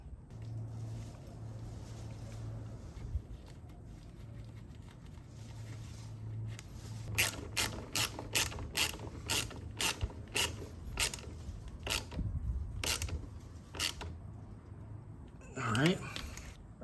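A ratchet tightens a nut onto a lawn mower battery bolt in a mini truck. A run of quick, crisp clicks comes in short bursts, close by and faint, with a low hum underneath and some quiet talk.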